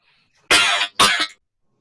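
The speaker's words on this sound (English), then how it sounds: "what's all the coughing about?" A person coughs twice in quick succession, two harsh, close bursts about half a second apart, with silence before and after.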